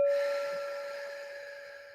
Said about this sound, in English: Every time you hear the bell tonight